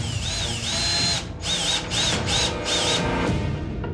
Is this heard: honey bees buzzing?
no